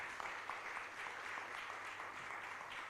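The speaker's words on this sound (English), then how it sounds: "We can give our peers a better clap." A faint, continuous patter of audience clapping at a breakfast meeting fills the room evenly and at a distance.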